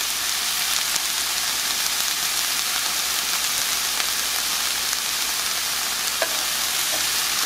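Chopped vegetables for a Mexican breakfast casserole sizzle steadily in a hot pan, a close, continuous hissing crackle with a few small pops and no talking.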